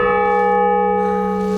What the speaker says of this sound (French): Nous avons les touches en fait en haut qui permettent de jouer les cloches à la main